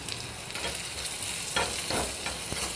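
Small onions sautéing in oil with cumin and asafoetida for a cashew nut kulambu, making a steady close sizzle with a few soft stirring scrapes near the end, no voices.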